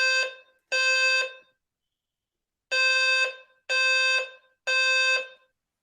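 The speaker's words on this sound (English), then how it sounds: "it sounds like a fire alarm, Marty." A fire alarm rings from elsewhere in the building, sounding as loud, harsh, buzzy tones in five bursts: two close together, a pause of about a second, then three more at a steady rhythm.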